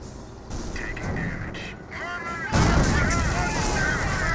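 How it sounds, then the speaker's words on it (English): Explosions hit a mortar half-track in a Company of Heroes battle, with heavy booms and artillery-like blasts building to a loud, sustained barrage near the end while a commentator talks underneath. "does get some good hits there onto the mortar half track"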